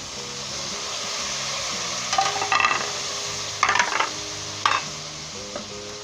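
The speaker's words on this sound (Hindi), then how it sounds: "5 से 6 मिनट इसे अच्छे तरीके से आपने तेज़ आंच पर फ्राई करना है, यानी भूनना है।" Tomatoes and green chilies fry over high heat in a pan for a chana dal and bitter gourd curry. A continuous sizzle runs throughout, with several sharp scraping and clattering stirs from a spoon against the pan.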